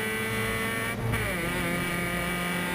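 A race car crossing the start-finish line during the final laps of an auto race, a loud close engine drone with a brief dip and surge as it passes, steady and unbroken with no voices.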